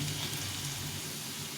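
Ginger, cumin, chili and turmeric paste sizzles in hot oil with fried potatoes and onions in a soybean curry, a steady, moderately faint frying hiss that continues evenly throughout.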